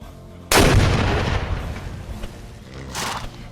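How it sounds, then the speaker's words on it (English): Cannons fire in a Mount & Blade Warband mod battle: one loud, close boom with a long rumbling tail, then a second, weaker blast about two and a half seconds later. "Having cannons is pretty good too"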